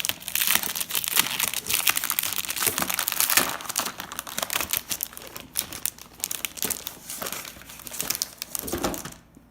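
Plastic wrap and cardboard packaging crinkling and tearing as a Splat Attack board game box is opened, continuous and close for several seconds.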